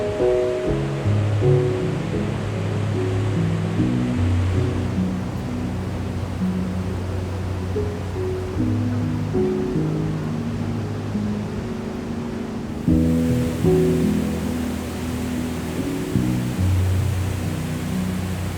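The Gullfoss waterfall in Iceland gives a loud, constant roar of rushing water filling the whole stretch, with low tonal layers underneath and a brief shift partway through.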